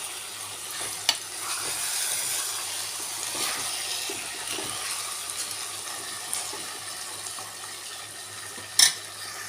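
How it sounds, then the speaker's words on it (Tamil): Chicken sautéing with onion and tomato in oil in a pan for pepper chicken, giving a steady soft sizzle with faint stirring scrapes and a couple of brief sharp clinks, with no talking. "கொஞ்ச நேரம் அந்த சிக்கனை இந்த வெங்காயம் தக்காளியோடையே நல்லா வதக்கணும்."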